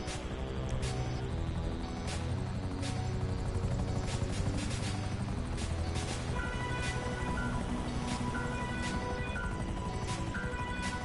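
Helicopter rotors in GTA 5 Online, a continuous throbbing chop with a low engine drone and a few sharp interruptions, holding steady throughout without speech.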